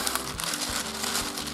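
Ordinary baking paper being cut, a steady dry crinkling and rustling close up that runs throughout, with a few soft low thumps and no talking.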